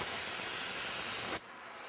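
A loud, steady hiss of a conventional spray gun blasting air in a woodworking shop stops abruptly near the end, leaving only faint background noise.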